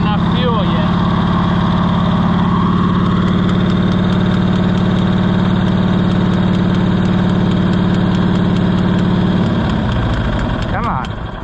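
A Cushman Truckster's small engine, running short on fuel, holds a loud, steady idle up close for about nine seconds, then its note shifts and roughens as it begins to falter near the end.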